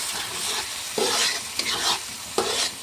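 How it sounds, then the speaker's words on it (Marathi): A spoon scrapes through a thick sizzling tomato masala for chole in a pan, three or four distinct stirring strokes over a steady frying hiss. "आता आपण याला हलवून घेऊ"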